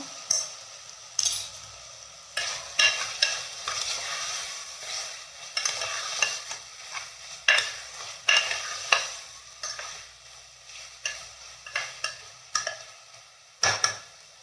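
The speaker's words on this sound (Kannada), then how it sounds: "ಇನ್ನು ಚೆನ್ನಾಗಿ ಫ್ರೈ ಮಾಡ್ತೀನಿ" Chicken biryani base frying with turmeric in a pan, a close, bright sizzle cut by frequent sharp stirring scrapes and clinks of the spoon against the pan, with no voices.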